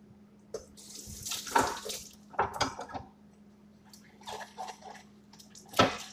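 Tap water running from a faucet into a sink while plates are washed by hand, a steady splashing stream broken by louder bursts and occasional dish clatter, close by with no talk.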